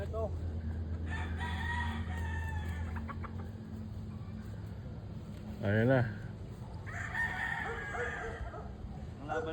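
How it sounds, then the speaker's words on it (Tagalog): Gamefarm roosters crowing and clucking all around, several overlapping crows with one loud, close crow in the middle, while someone speaks briefly over the din. "Daming manok, oh."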